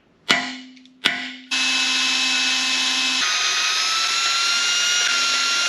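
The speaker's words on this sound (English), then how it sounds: "I gotta center punch those rivets as close to center as I can get, and I'm gonna try and drill them out." Power drill revs in two short bursts, then runs in a loud, continuous high-pitched whine as it drills out rivets on a 1939 Caterpillar D4 diesel engine, close by.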